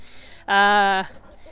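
A rooster in a chook pen gives a single short, loud harmonic call lasting about half a second, heard fairly close against quiet background.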